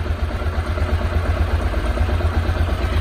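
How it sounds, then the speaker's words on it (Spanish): A Honda FMX 650 motorcycle engine idles steadily, a close, even, low rumble of rapid pulses that continues without a break and with no voices. "Ralentí estable y veis que suena de maravilla."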